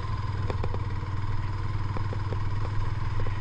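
A car engine pulls steadily up a steep mountain road in second gear on the road to Lachen, with a constant low drone and some light clatter and clicks over it, fairly close and loud.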